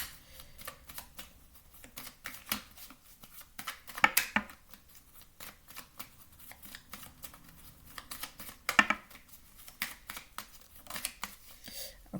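Tarot cards shuffled and laid down, giving soft papery riffles and crisp taps in quiet bursts, with two sharper flurries of snapping cards amid the intermittent handling.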